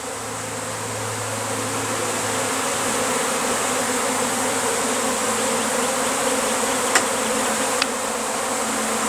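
Honeybee swarm pouring out of a hive box, a dense continuous loud buzzing drone from many bees a few feet away, with a couple of individual bees zipping past close by.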